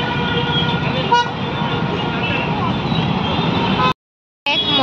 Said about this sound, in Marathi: बॉम्बे का ट्रॅफिक